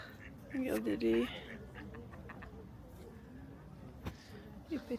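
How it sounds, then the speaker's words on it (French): Ducklings by a lake give short, bright quacking calls in a couple of brief bursts, fairly close, amid outdoor ambience with a voice speaking in between. "Regardez, il y a des petits canards."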